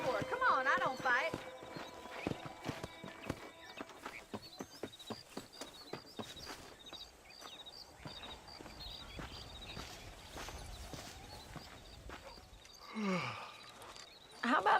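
A horse in Red Dead Redemption on Xbox One X trots along with steady, evenly spaced clip-clop hoofbeats, fairly quiet, with a brief whinny-like call near the end.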